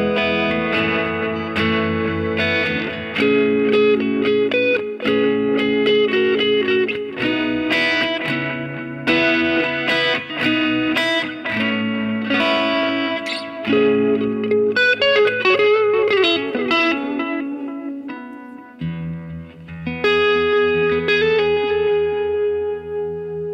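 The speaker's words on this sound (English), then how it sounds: "Put a little delay and reverb on that." Distorted electric guitar with delay and spring reverb, notes echoing and trailing off into a washy tail, loud and continuous with no voices.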